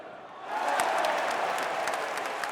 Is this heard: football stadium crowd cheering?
yes